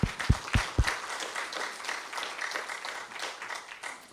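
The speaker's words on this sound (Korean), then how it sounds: "여러분 한 번 더 박수 해주세요." A church congregation gives another round of applause during a Sunday worship service, a few sharp claps up front followed by a soft, steady patter of clapping throughout.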